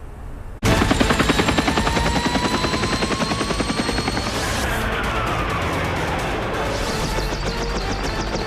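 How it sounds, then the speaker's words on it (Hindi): Chetak helicopter passing overhead during a rehearsal fly-past, a loud, steady rapid rotor chop that starts abruptly and holds throughout, with a falling engine whine as it moves by. "रिहर्सल के लिए बुधवार को चेतक हेलीकॉप्टर और सूर्य किरण विमान ने फ्लाई पास किया"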